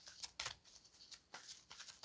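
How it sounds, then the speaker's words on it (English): Oversized tarot cards being shuffled close by, producing quick papery riffles and slaps in short bursts with brief gaps between them. No voice is heard. "It's kind of challenging shuffling the bigger cards"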